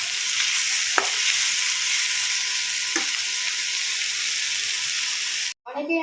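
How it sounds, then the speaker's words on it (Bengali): Pointed gourd (kakrol) frying in a pan, a steady dense sizzle with a couple of sharp stirring clinks; the sizzle cuts off abruptly near the end. "এই যে এখন ভালো করে একটু ভেজে নেব"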